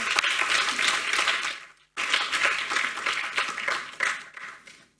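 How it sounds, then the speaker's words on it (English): An audience applauds at the close of a quantum computing talk, a steady wash of clapping that breaks off briefly near the two-second mark before resuming just as strongly. "A round of applause for Anna."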